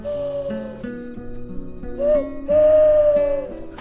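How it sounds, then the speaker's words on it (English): A clear, sustained whistled tone rises and holds over a steady musical background, sounding a few drawn-out notes with a brief swell in between. "that whistle, Joey has been waiting to hear it for 4 years"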